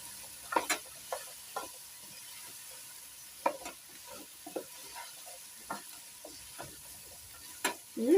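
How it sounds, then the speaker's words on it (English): Spices, garlic and leek cook down in a pan with a soft, low sizzle, broken by a string of sharp scrapes and clicks as the pan is stirred at irregular intervals. Nobody speaks. "So we cook down our spice."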